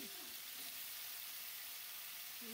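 Tomato and potato sizzle steadily in hot oil in a pan, a dense, even frying hiss with faint stirring clatter, close up and with no talk.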